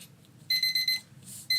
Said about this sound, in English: And there's my timer again.